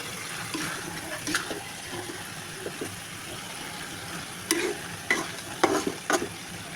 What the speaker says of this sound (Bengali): ভাজা ভাজা করবো